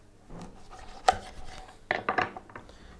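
A knife cuts a whole chicken into quarters, splitting halves into thigh and breast pieces, giving a few close, soft chopping and scraping knocks with one sharper hit and a short burst of cuts near the end.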